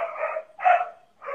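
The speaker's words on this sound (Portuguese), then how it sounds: "meus cachorros fazendo a festa" Pet dogs at home let out three quick barks and yips in an excited burst, loud and close, with short silent gaps between them.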